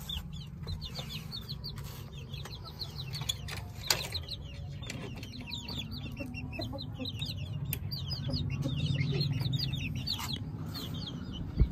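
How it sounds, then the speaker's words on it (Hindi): A rooster loose among hens gives steady, overlapping clucks and chatter close by. A constant low rumble and scattered clicks run underneath, and nobody speaks. "अभी हमने मुर्गे को ना मुर्गियों के साथ छोड़ दिया हुआ है"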